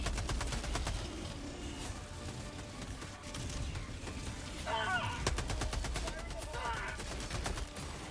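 Gunfire in the PS5 game Helldivers 2, heard as dense sustained rapid shooting and explosive bursts throughout, with game effects mixed in.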